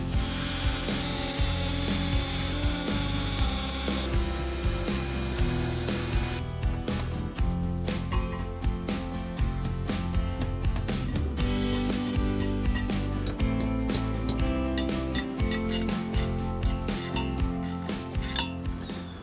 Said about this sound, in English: I can't believe I'm drilling through my concrete patio.